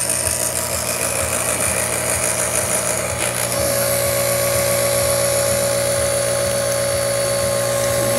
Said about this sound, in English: Bring out our new used pump.